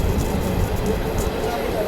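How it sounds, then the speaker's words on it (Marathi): Passenger train just out of Nashik rumbles steadily along the track, a continuous low rolling drone heard from inside the carriage, with a voice talking over it. "जस्ट दोन मिनटापूर्वी ट्रेन स्टार्ट झालेली आहे"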